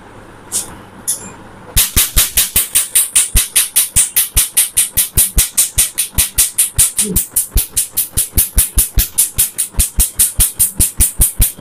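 A laser machine removes a woman's birthmark, emitting loud, rapid, evenly spaced pulsing bursts at roughly four per second that run continuously after a couple of faint earlier clicks.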